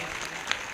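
A congregation at a live morning prayer meeting claps in a dense, steady burst, a brief, continuous wash of many hands together.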